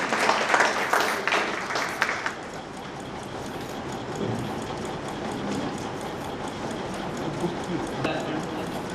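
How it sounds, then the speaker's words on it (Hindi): Applause from an audience at a Hindi literary gathering, welcoming a speaker to the stage, sounds as steady broadband clapping that is louder at first and then settles into a sustained patter, with voices mixed in. "तालियां बजा करके उनका स्वागत करें।"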